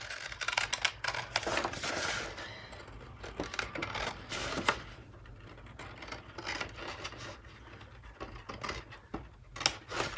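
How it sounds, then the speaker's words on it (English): Scissors snip paper repeatedly in close, crisp cuts, with rustling paper between the strokes and no talking. "I'm going to try and cut along this line as neatly as I can with my scissors"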